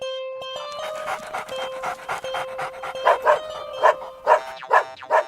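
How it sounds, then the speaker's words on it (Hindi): A dog in a cartoon story barks in a rhythmic string of short yaps that grow louder toward the end, over a sustained background tone. "क्यों भौंक रहे हो?"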